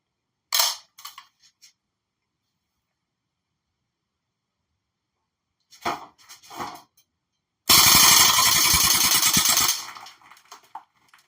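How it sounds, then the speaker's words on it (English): A We-Tech Apache A3 MP5 gas airsoft gun fires: a couple of short bursts, then a sustained two-second full-auto stream of rapid clattering shots emptying the magazine, close and loud, with silent gaps between. "I'm going to go ahead and dump a magazine so that you can see where the gas efficiency starts to fail"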